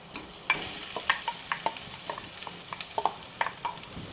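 Cooked rice with turmeric being stirred in a pan, a string of quick scraping and tapping strokes in an irregular rhythm over a soft background sizzle, close and fairly loud.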